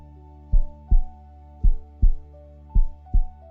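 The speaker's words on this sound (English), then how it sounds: "Your heart beating without asking." Six heartbeats thump in paired, evenly spaced low pulses over a soft, steady musical hum.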